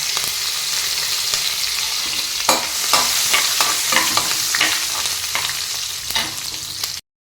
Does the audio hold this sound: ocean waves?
no